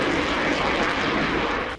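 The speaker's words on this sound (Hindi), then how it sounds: "ड्रिल में F-22 रैप्टर सहित करीब 30 विमान शामिल।" An F-22 Raptor military jet roars loudly and steadily during a joint South Korea-US air drill, a broad rushing engine noise that drops off abruptly at the very end.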